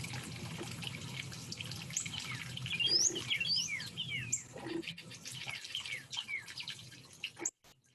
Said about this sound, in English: just a video clip of a little common yellowthroat. It's a warbler